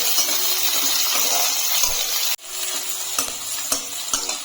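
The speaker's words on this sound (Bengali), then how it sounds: "এখানে আমি 1 চামচের মতন সাদা তেল দিয়েছি, দিয়ে দিচ্ছি কিছুটা রসুন কুচি, তারপরে দিয়ে দিচ্ছি পেঁয়াজ কুচি। রসুনটাকে হালকা একটু নেড়ে নেবো।" Chopped garlic and onion stirred in a little white oil in a pan, a steady loud close sizzle with scraping spatula strokes and a brief break midway, no talk.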